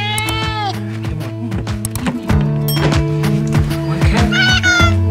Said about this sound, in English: Cats in the cattery.